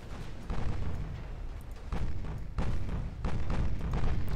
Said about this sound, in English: 3, 2 torpedo hits.